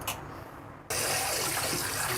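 Quiet room tone, then salted water suddenly starts pouring in a steady, full gush that continues to the end.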